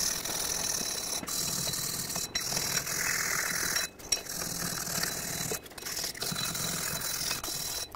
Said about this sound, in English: In between the lug studs here, I'm going to use a wire brush.